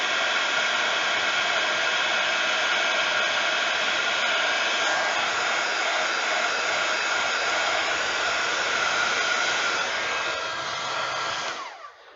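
Heat tool blowing hot air onto a white happy birthday die cut to emboss it, a steady loud hair-dryer-like roar that runs unbroken and then cuts off near the end.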